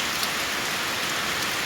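Heavy storm rain pours down steadily in rural Laos, a dense, loud hiss of drops on surfaces filling the whole stretch without pause or talk.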